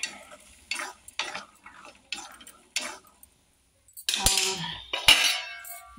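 Green peas dry-roast in a kadhai with no oil, stirred with scraping, clinking spoon strokes in a steady rhythm, close and fairly crisp, with a brief pause before louder scraping bursts.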